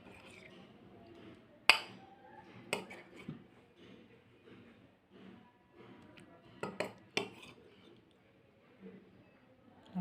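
Potato chaat being served into a dish with utensils, with scattered clinks and scrapes of metal and a couple of sharp knocks against the dish, fairly quiet and close, with brief talk in the background.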